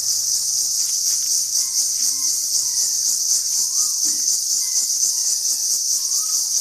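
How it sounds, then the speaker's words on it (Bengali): Crickets chirp in a steady, dense high drone at night in rural Bengal near a river, with faint scattered bird calls and a low hum beneath; no talking. "খুব সুন্দর লাগছে ঝিঝি পুকুর ডাকটা।"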